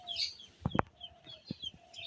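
Broiler chickens in a poultry shed make soft, scattered clucks and short calls, faint and fairly distant, with a few brief knocks and light chirping in the background.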